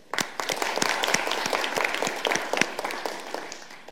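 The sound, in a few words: audience applause for the chief guest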